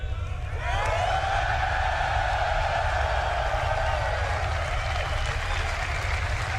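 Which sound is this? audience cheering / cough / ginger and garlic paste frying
audience cheering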